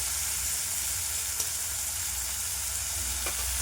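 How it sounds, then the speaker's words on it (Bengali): Prawns frying in hot oil for a jackfruit and prawn curry, a steady close sizzle and crackle running the whole time with a couple of faint sharp pops. "মাছটা ভেজে নেব। চিংড়িটা ভাজা হয়ে গেছে, তুলে নেব।"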